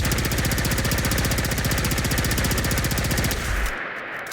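A full-auto plasma gun fires in Fallout 4, a loud, rapid, steady stream of shots lasting over three seconds before cutting off and leaving a faint tail.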